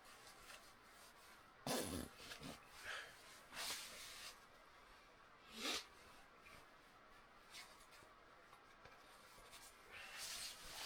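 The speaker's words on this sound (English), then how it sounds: "You always struggle to get the zippers up sometimes" A sleeping bag zipper tugged open on a freezing car-camping trip at Mount Baw Baw, Victoria: several short, close, rasping bursts come at uneven intervals over a quiet, hissy background.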